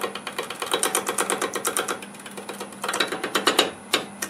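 A lathe turning tool cuts sweet gum wood while riding the bevel, making a rapid rhythmic chatter of repeated scraping pulses, steady and close.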